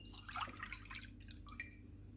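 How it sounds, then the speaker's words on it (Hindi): Milk poured into a bowl that already holds an egg, a faint, close trickle and splash of liquid for a couple of seconds, with a light steady hum underneath. "दूध डालेंगे"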